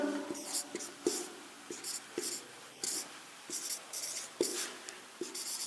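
Writing on a board during a math lesson on arithmetic progressions: rhythmic strokes and scratches, each set off by a sharp tap, recurring steadily at close range.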